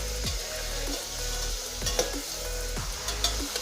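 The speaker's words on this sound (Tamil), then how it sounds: "வெங்காயம் கலர் சேஞ்ச் ஆகிற வரைக்கும் நம்ம நல்லா வதக்கிக்கலாம்" Onions fry with green chillies and ginger-garlic paste for brinji rice, giving a constant close sizzle with a low hum beneath and a few spoon scrapes and clinks against the pan.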